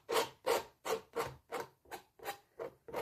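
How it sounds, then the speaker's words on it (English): A palette knife scrapes Mars Black paint across an old painting in about nine rhythmic, even strokes, each a close, dry rasping rub separated by brief pauses. "I've been adding a thin scraping of Mars Black."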